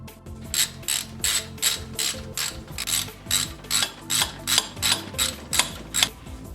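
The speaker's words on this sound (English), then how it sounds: "we will be removing the two 10mm bolts holding the wire looms to the side of the fuel pump" A hand ratchet loosening 10mm bolts holding wire looms to the side of a Mazdaspeed3 Gen 2 high-pressure fuel pump, a close, steady run of about a dozen rhythmic ratcheting clicks with no talk.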